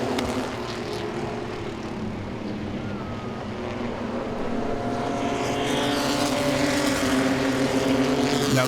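Pro-Six race cars roar around Langley Speedway, with engines droning continuously in a dense pack and the sound building louder as cars sweep closer near the end.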